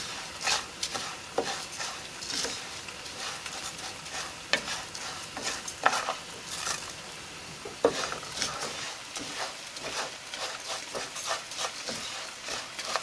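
Rice sizzles in a pan as it is stirred continuously for Mexican chicken and rice, a steady frying hiss broken by frequent scraping clicks of the utensil against the pan, close and fairly loud.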